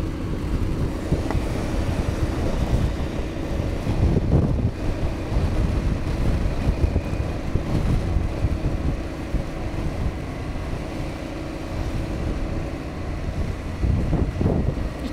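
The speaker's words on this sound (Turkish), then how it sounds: "Rüzgar çok kötü." Strong wind buffets the microphone on a stormy, rainy day in Wellington, New Zealand, a constant loud roar with gusting surges throughout.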